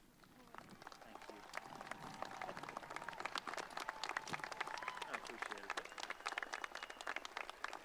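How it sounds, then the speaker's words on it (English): An audience at a high school graduation ceremony claps in a sustained round of applause, dense and crowd-wide, while a voice talks over it. "I invite you to stand and applaud to acknowledge his service to our schools and community."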